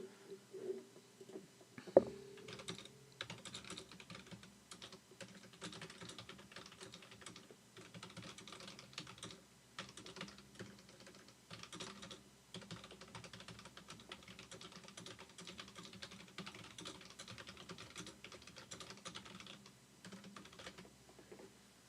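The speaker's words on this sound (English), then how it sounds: "So I'm typing to Claude." Someone types on a computer keyboard in a quiet room, producing faint, close, irregular key clicks in quick bursts with short pauses, opened by one sharper louder tap.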